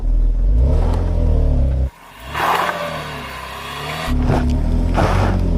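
A car engine, a BMW or Porsche on an off-road trail, labours up a slope with loud, close revving that dips briefly, then surges again as the throttle is worked.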